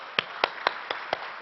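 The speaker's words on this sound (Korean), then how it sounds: "축하의 박수" Crisp, evenly spaced claps, five in about a second and a half, from a congregation celebrating an ordination at a church service.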